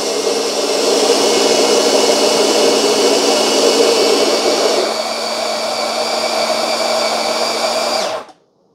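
OXO Brew conical burr coffee grinders grinding coffee beans, a loud steady whirring motor drone that holds for about eight seconds, shifts slightly in tone midway, then cuts off abruptly.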